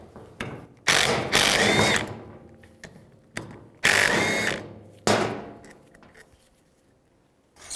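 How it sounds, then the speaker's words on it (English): Ratchet and 12mm socket loosening the rear brake caliper bracket bolts on a 2000-06 GMC Yukon, heard as loud bursts of clicking and grinding with quieter clatter between them, close up, no talking. "I'm going to use a 12mm socket, take these two bolts out."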